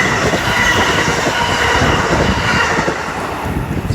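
Amtrak Keystone passenger train on the Keystone corridor near Radnor and Wayne stations rumbles past close by, loud and continuous, with rail clatter, wheel squeal and a steady roar that eases slightly toward the end.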